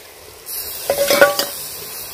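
Chicken keema, village style, drops into a hot pan with a sudden sizzle, followed by a few scraping stirs and clinks of a utensil against the pan over a steady frying hiss.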